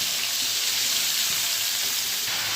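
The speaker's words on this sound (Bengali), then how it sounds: "সব সবজিগুলো ঢেলে দিয়ে দিয়েছি কড়াইতে" Vegetables fry in a wok with a dense, even sizzle that holds steady and loud from start to finish, close by and alone.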